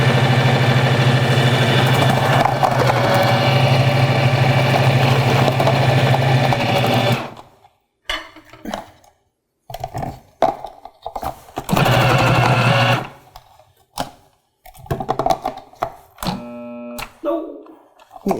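A KitchenAid Pro Line KFP1642 food processor dicing onion runs with a loud, steady motor whir for several seconds, stops, then runs again in a short burst, and people talk in the gaps.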